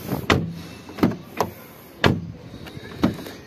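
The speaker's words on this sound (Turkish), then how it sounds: "Şimdi aracımızın şu kapı sesine bir bakalım." Renault Clio 0.9 TCe Joy car doors shut one after another, four sharp solid thuds spaced about a second apart, close by with no talk.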